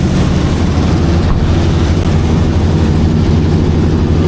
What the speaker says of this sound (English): This engine is just super loud, sounds super healthy.